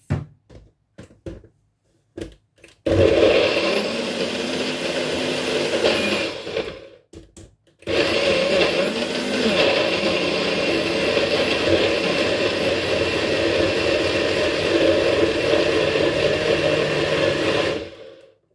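A blender whirs loudly after a few short clunks, stops briefly, then runs again in a long, steady roar before cutting off, blending an immune-boosting elixir.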